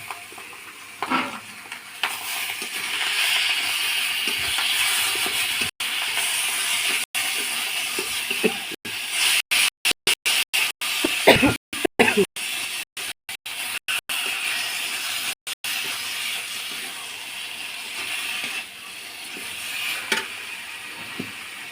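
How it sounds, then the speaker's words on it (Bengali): Taro leaves hitting plenty of hot oil in a pan give a steady, loud sizzle and hiss, with bursts of crackling spatter midway and stirring sounds throughout. "এবার আমি কচুর শাকটা ঢেলে দিয়ে দেবো।"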